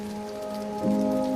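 Steady rain falls on a surface as an even, continuous patter, with a sustained low tone humming underneath and no voices.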